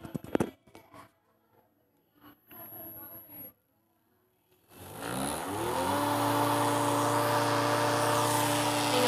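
An oxygen mask device starts up after being switched on, with a steady whirring motor hum rising in pitch and then holding constant at close range. Brief handling noises and quiet talk come before it.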